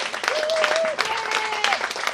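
Applause from guests at a Ladies Red Wiesn charity event on a restaurant terrace in Pullach, continuous clapping with a voice speaking over it and a faint whistle-like tone.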